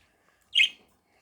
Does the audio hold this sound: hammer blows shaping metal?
no